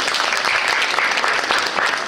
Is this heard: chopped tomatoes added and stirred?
no